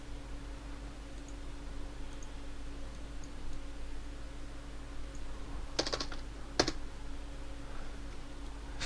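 Keys on a computer keyboard clatter in two short bursts of typing against a steady room hum, with a few faint ticks earlier on.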